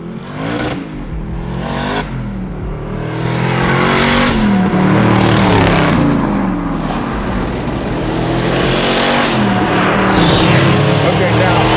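A 1000whp twin-turbo 1967 Chevelle with a sequential shift revs loud and close, its engine note climbing and holding in a harsh sustained roar with rising and falling pitch, and people talk faintly beneath it.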